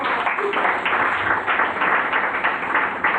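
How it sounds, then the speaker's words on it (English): Audience applause at a seminar on African women in development and gender-based violence, a moderate, steady patter of many hands from the room, fairly even and somewhat muffled. "Another round of applause."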